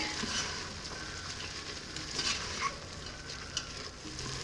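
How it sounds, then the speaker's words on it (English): Onion and garlic fry in a soup pot, a soft continuous sizzle with occasional small pops and light utensil knocks, fairly quiet and with no voices. "So I'm gonna cook the onion, and then I'm gonna add 2 cloves of garlic."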